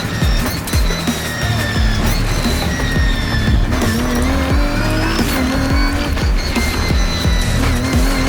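Porsche race car locking up its tyres under braking during a Britcar endurance race at Thruxton, loud engine roar mixed with squealing tyre rubber and other cars passing close by.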